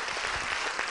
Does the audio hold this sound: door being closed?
no